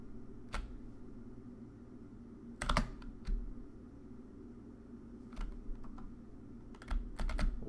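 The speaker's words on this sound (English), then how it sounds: "Move with the WASD keys. Fire with the space key" Keystrokes on a computer keyboard as WASD movement keys and the space bar are pressed to play a terminal-based airplane shooter game: scattered sharp clicks, some single and some in quick bursts of two or three, over a steady fan hum.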